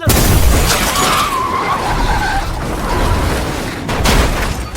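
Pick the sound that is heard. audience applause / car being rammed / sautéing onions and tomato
car being rammed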